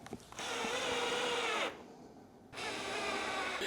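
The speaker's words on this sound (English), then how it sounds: "I've inserted a posi drive screw and take it and set it" Power driver setting a Pozidriv screw into a 35mm cabinet hinge in wood: a loud, close whirring motor runs for over a second, stops briefly, then starts again.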